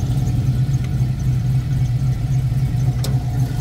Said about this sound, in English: LS motor for the win.